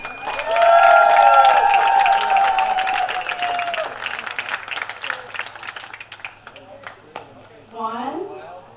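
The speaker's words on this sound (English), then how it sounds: "A big round of applause for the Jim and Cleo Nicolay family" Crowd applause and cheering at a baseball regional tournament game, honoring a family before the first pitches, a dense burst that starts loud and slowly thins, with an announcer's voice over the top and speech returning at the end.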